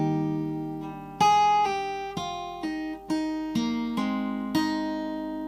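An electric or acoustic guitar plays a slow, clean riff of plucked notes from a song in The Last of Us Part II, some ringing on with soft hammer-on slurs between them, spaced out evenly and alone.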